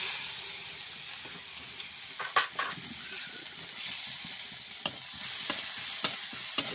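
Spices with turmeric powder and a ground paste sautéing in a pan for a winter cauliflower dish: a soft, steady sizzle with a few sharp stirring scrapes against the pan, no voices.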